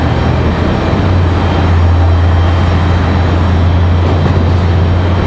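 A JetBlue Embraer E190 departs Raleigh-Durham for Boston with a loud, close, continuous jet roar over a steady low engine hum, heard alone for several seconds.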